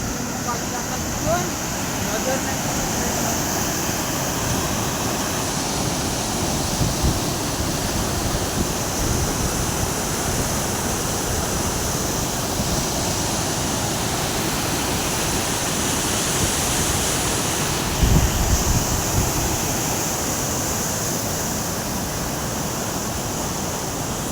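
Steady roar of water falling at the Pimpalkhuti lake waterfall, a broad continuous rush that stays loud and even throughout, with a brief surge near the end and faint voices underneath.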